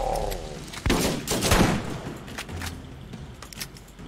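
A deployed war turret firing in Borderlands, with a rapid burst of gunfire up close that tapers into scattered shots and clatter.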